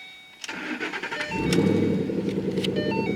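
A 2013 Ford Mustang GT with a 6R80 six-speed automatic cranks and fires up close by, catching after a brief starter whir and settling into a loud, steady, rumbling idle with no talk over it.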